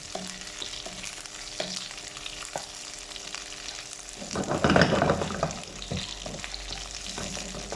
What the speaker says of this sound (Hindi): सौते करेंगे हम अपने लहसुन के साथ।